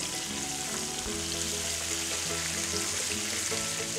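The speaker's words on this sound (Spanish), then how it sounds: "Y empezamos a freír. Se trata de dorarlo bien por todos lados" Rabbit pieces fry in hot oil in a pan, a loud, steady, crackling sizzle throughout with faint clinks of stirring, heard close up and without speech.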